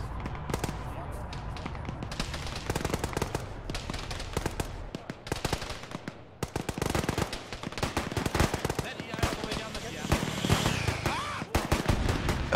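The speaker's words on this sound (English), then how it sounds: "That was a rocket." A rocket explosion bursts amid rapid gunfire in a military shooter game, dense overlapping shots and blasts filling the scene, loud and near, with voices calling out beneath the clatter.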